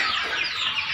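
A flock of pure desi country hens on a small poultry farm clucks and chatters continuously, a dense close chorus filling the brief moment without talk.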